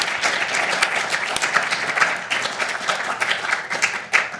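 A conference audience applauds steadily for charity staff, a dense, sustained clapping from many hands throughout, fairly close, with no talk over it.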